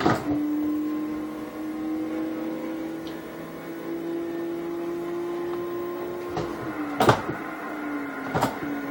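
Sustained racing-car engine drone from a video game, holding a steady pitch along a straight while closing on and overtaking an Audi, with a few sharp clacks near the end.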